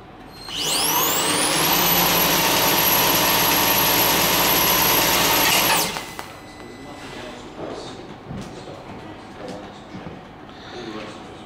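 Loud, steady whine of a Vacuumatic RTIS3 reel tab inserter running a web at 600 metres per minute, a rising pitch that holds for several seconds then cuts off, leaving quieter machine clatter.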